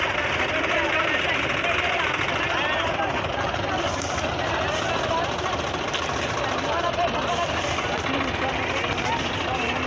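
Several tractors rev hard together straining to haul a heavy sugarcane load, a dense continuous engine roar with rough knocking, loud and close for the whole stretch, with people talking over it.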